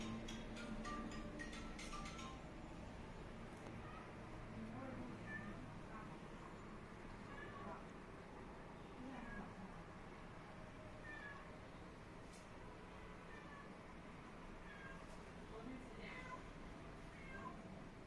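A cat meows several times among steady background noise, with occasional soft talk nearby during a dog's vaccination visit.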